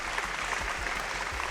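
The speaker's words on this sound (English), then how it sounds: "with a big round of applause." Dense, steady applause from a quiz show studio audience welcoming contestants at a televised school quarter-final; the short burst stays close and loud throughout with no talk over it.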